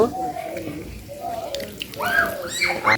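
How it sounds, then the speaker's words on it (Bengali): Water splashing and running over hands during a hand wash outdoors, a close, uneven patter under a voice that talks throughout. "এখন হাতটা একটু ধুয়ে নেব"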